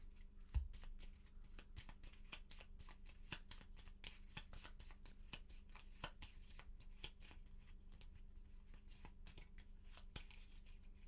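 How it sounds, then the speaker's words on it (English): Close, quiet card shuffling: a steady run of rapid papery riffles and soft flicks, repeating in quick bursts with no voices. "All right, a little shuffle here."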